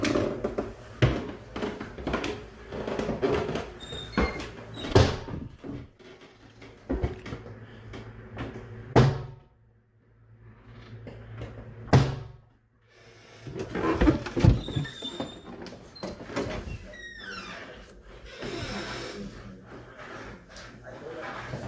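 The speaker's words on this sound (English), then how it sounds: "The door starts opening and closing by itself, but when Jacob checks, no one is there." An indoor door creaks and bumps as it swings open and shut by itself, coming as scattered knocks and thuds with quiet gaps between them, heard upstairs in a house over faint background noise.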